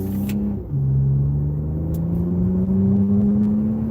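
A car accelerating in sport mode gives a steady, loud engine drone whose pitch climbs gradually with rising revs, close up and without voices.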